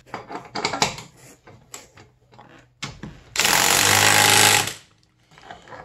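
A half-inch drive wrench tightening the track bolts on a 2002 Arctic Cat ZR 600 EFI snowmobile gives a loud buzzing burst of about a second and a half. Clicks and handling noises come before and after it.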